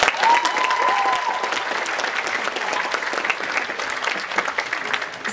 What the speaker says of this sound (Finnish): Annetaan heille aplodit.